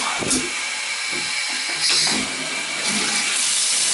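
Toilet tanks refilling after the water supply to a winterized house is turned back on: a loud, continuous hiss of rushing water through the fill valve, steady with slight surges, close by and without speech.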